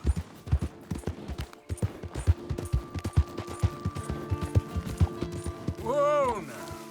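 Horse hooves clop at a quick, steady rhythm in Red Dead Redemption 2, loud and close, with short rider calls in between and a horse whinny near the end.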